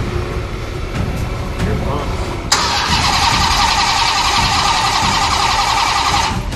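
An 807-horsepower crate engine in a hot rod cranks and catches, then settles into a steady, fairly loud idle that continues to the end.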